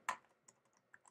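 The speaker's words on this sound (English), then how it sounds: "you can just type right in" Typing on a computer keyboard: a sharp first keystroke followed by a handful of lighter, irregular clicks, close and quiet with nothing else in the background.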